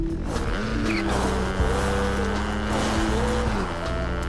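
Motorcycle driving in the Fortnite video game, a continuous engine whine with shifting pitch and tire noise, loud and steady throughout.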